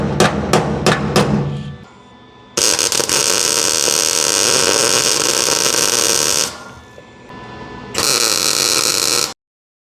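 Welding an inner rocker panel on a first-generation F-body car with the voltage turned up: a few quick buzzing taps, then two long loud crackling buzz bursts separated by a short pause, close and without talk.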